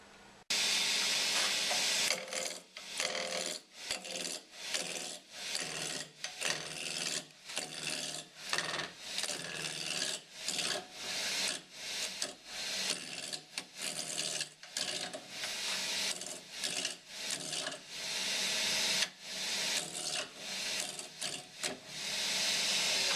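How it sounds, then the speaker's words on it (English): Claret ash blank being rough turned on a lathe toward a cylinder, loud rasping bursts from the gouge cutting in rhythmic repeated passes, with short pauses between cuts. "we're going to go ahead and rough turn that down to about 62mm"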